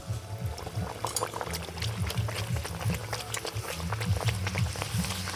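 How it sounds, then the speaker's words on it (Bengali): Puri dough frying in hot oil gives a busy bubbling crackle, with a low rolling undertone and scattered sharp pops throughout at moderate loudness. "এবার এক একটা পুরি তেলের মধ্যে দিয়ে খুব ভালোভাবে ভেজে নেব।"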